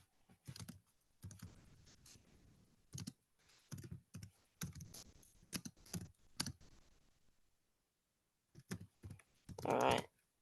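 Computer keyboard keys typed in short bursts and pauses, moderately close and fairly quiet, with a louder cluster of clicks near the end and no talking.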